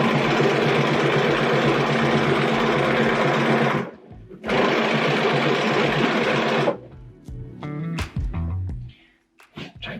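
A sewing machine quilting a quilt runs in two long, steady loud bursts with a short pause between, then stops and gives way to a few scattered clicks and handling sounds as the threads are tidied.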